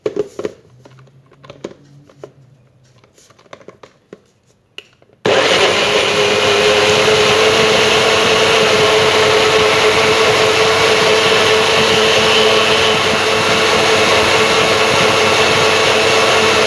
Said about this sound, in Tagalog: At atin na siyang i-blend.